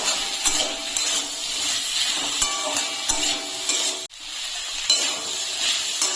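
Amla pickle with salt being stirred in a pan, a steady close sizzle broken by repeated spoon scrapes and knocks against the pan, with a brief sharp dropout midway.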